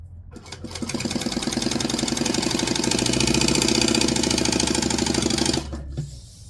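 A sewing machine stitches a slip pocket in one continuous run of rapid, even mechanical chattering that starts abruptly, holds steady for about five seconds, then stops, close and clear.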